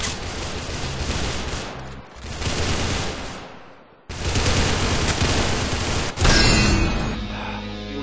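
Rapid bursts of automatic gunfire in the Arsenal video game, loud and dense, with a short pause midway before heavy firing resumes.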